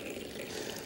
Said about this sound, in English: Now, pour it out and finish up with a good flow of clean, fresh water at the proper temperature.